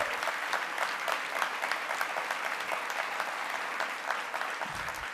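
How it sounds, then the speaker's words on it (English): Sustained applause from a large audience at the 2017 Matrix Awards ceremony in the Sheraton Times Square Hotel ballroom, a dense, steady wash of many hands clapping at even loudness throughout, with no voices rising above it. "let's give all our winners a huge round of applause."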